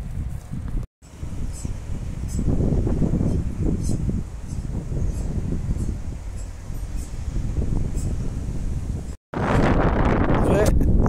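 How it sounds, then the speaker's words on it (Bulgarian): Strong outdoor wind buffets the microphone in heavy, continuous low rumbling gusts beside a railway line under reconstruction, with two brief dropouts; no words are spoken. "вятър се сили, така че много съжалявам, ако не се чува много добре"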